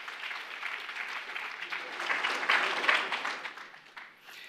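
A round of applause for the Honorable Minister of State for Petroleum Resources at a closing ceremony in Abuja: dense, sustained clapping from a crowd that swells in the middle and then begins to thin out.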